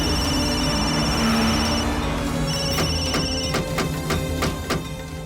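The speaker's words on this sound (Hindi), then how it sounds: "जल्दी फोन उठाओ" A telephone rings loudly with repeated electronic trills, the pulses growing sharper and more rapid toward the end over a steady background hum.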